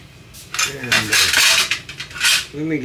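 Metal parts of a KitchenAid meat grinder clink and clatter as they are handled and fitted together in a kitchen, a run of bright, close metallic knocks, with a brief voice at the end.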